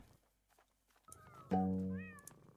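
Cartoonish cat meows from a pet in the Roblox game Grow a Garden: a thin rising call, then a louder, sustained meow with a short trailing chirp, heard alone without talk.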